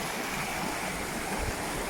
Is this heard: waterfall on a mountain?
yes